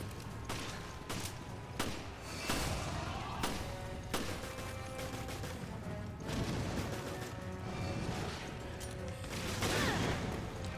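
Gunfire in the survival horror game Resident Evil Revelations, a string of sharp shots and impacts over a dense, continuous layer of game music and noise, with a louder burst near the end.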